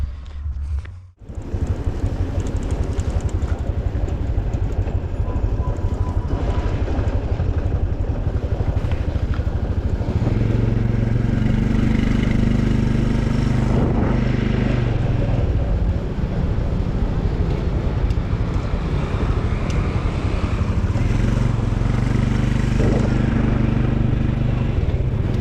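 A motorbike ridden into Muang Xai town in Oudomxay, Laos on a cold morning hums with a loud, steady engine drone. Wind rushes over the microphone, and the pitch rises and falls with throttle changes.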